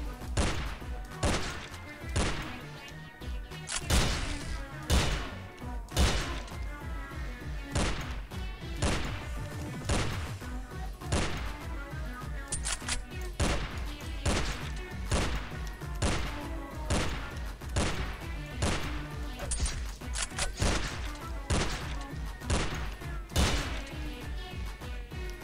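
Rapid bursts of gunfire from the 2D action game Madness Deathwish 2, sharp repeated shots in irregular clusters, loud and close, running throughout with dense impacts.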